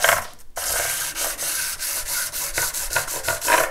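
An 18mm MDF block rubbed back and forth over the tops of guitar frets during fret dressing on an ES 335 build, a close, dry rasping scrape in quick repeated strokes with no talk.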